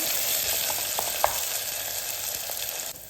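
Onions and tomatoes fry in a pan for wheat rava kichadi, giving a steady close sizzle with a few light stirring clicks and no voices.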